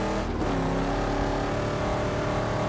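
A car in a video game drives with a steady, loud engine drone and shifting revving tones, continuous and close throughout with no talk.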